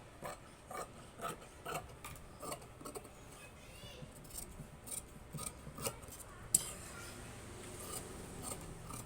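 Scissors cutting fabric for a blouse neck: a steady series of close, crisp snips at a regular pace, followed by softer rasping and rubbing of cloth, with no voices.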